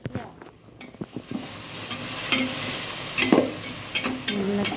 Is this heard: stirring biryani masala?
yes